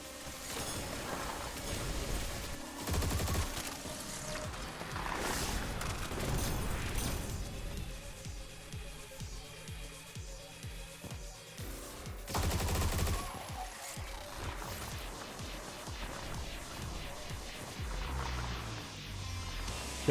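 A big gun in the shooter game Turbo Overkill fires in dense, loud bursts of rapid gunfire, with heavy booms and crackling shots that swell and ease again over the whole stretch.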